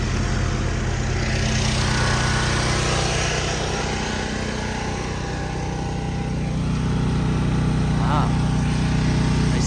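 A golf course aeration machine spreading sand runs steadily close by with a constant mechanical drone and rhythmic thumping, outdoors on turf.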